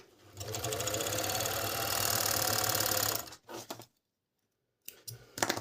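A hand-cranked four-thread Agat overlock sewing machine runs in a fast, steady mechanical rattle for about three seconds, then stops. A few short clicks and bursts follow before a brief silence.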